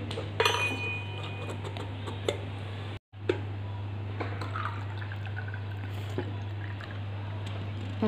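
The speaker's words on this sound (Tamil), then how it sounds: "இருங்க, அப்படியே எடுத்து இப்போ ஒரு கிளாஸில் ஊற்றிக்கிறேன்." Concentrated juice pressed from ripe fruit is poured into a glass as a homemade syrup. It makes soft dripping and light glassy clinks over a steady low hum, with no talking.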